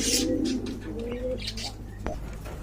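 Pigeons at a busy Bangladeshi bird market coo in low, rolling phrases close by, with chirps and general market bustle around them.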